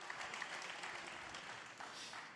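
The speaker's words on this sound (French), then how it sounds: "on l'applaudit, mesdames, messieurs." Audience at a women's rights conference event in France applauding, a dense, steady patter of clapping, faint and distant, without talk.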